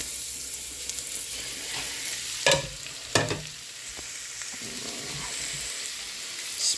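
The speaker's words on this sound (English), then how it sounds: "we're going to put this into this really decently hot pan to cook for 3 minutes" Beef for Mongolian beef fries in a hot pan with a continuous sizzle, broken by a couple of sharp louder crackles as it is stirred.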